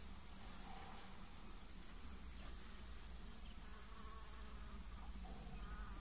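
A honeybee colony hums steadily at an open hive during queen rearing, a dense, continuous buzz of many bees filling the air close by with no talk over it.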